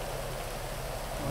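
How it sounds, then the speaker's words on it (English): Rain falls steadily on a surface, a dense, even hiss of drops that holds close and loud from start to finish with no voices. "Why is it raining?"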